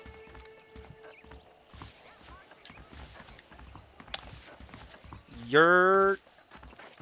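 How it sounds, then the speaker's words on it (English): Horse hooves clip-clop in a steady, soft walking rhythm in the video game Red Dead Redemption, with a horse's whinny rising near the end and a brief spoken voice over the top. "The horses are saddled up over here."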